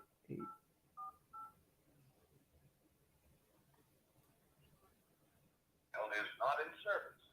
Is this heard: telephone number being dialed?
yes